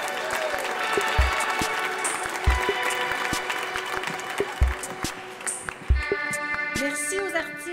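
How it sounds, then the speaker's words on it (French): A large audience at an awards gala applauds steadily with dense, continuous clapping, while music with a thudding beat plays underneath. "j'aimerais que vous donniez une incroyable grosse main d'applaudissements pour ma patronne, Chantal Jolicoeur"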